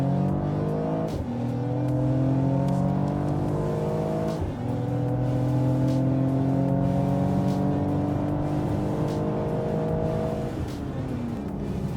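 A Mercedes-AMG A35 engine revs hard on a race track through repeated rising gear pulls, loud and close, with brief drops between shifts.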